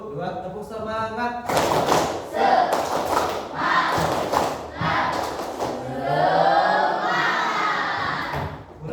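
A school class performs the tepuk semangat clapping chant, a broad group of voices shouting together in rhythmic bursts with claps and thuds mixed into the noise, after a single voice leads in.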